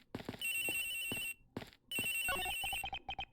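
A telephone rings in the Ace Attorney Investigations video game, a bright electronic trill that sounds in bursts separated by short gaps, then gives way to a quick run of rhythmic digital blips.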